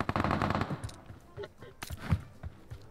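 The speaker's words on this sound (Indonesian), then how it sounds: "Teman gue yang nembak ya." Machine gun fire from a teammate in PUBG Mobile, a dense rapid burst at the start that fades into scattered single shots and echoes, with faint game noise behind.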